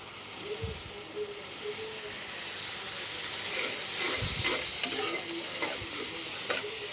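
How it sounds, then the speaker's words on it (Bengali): Spice paste fries in hot oil in a pan while a spoon scrapes and stirs it, a steady low sizzle with faint intermittent scraping, close and fairly quiet, with no talking. "এবার আমি একটু তেলের সাথে ভেজে নিব।"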